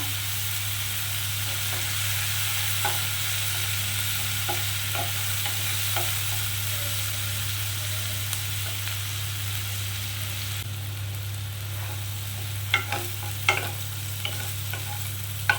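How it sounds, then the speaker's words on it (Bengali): Chopped onion, garlic, ginger and green chili fry in oil with a steady soft sizzle, while a spoon stirs and scrapes the pan in occasional sharp clicks, a low electrical hum underneath. "আমি এরমভাবে একটু ভাজা ভাজা করে নিলাম পেঁয়াজ রসুন আদা কাঁচা লঙ্কা কুচি"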